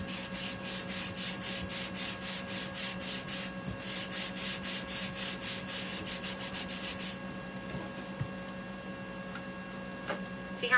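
Sandpaper rubbed back and forth over a waxed surface on a craft project, making rhythmic scratchy strokes in quick succession over a faint electrical hum, then stopping, leaving a quiet hum and a few small knocks.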